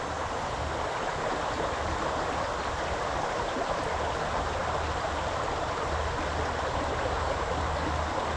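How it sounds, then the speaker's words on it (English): A river rushes over rocks around a canoe, a dense steady roar of flowing water, close and unbroken, with no voices. "do you hear the rush? Listen to this. Listen to the water."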